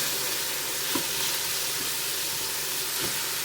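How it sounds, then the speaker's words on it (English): A hamburger patty sizzles in a Ninja Foodi pot while a spatula scrapes its underside, giving a continuous frying hiss with a few soft scraping strokes and no speech. "Kind of want to keep scraping the bottom of this hamburger patty so that it doesn't burn."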